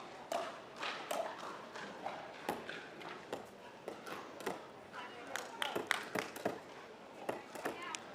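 Paddles volley the ball in a fast pickleball rally at the kitchen line between pros at the Las Vegas Pickleball Cup, giving a string of sharp, irregular pops over a murmuring crowd.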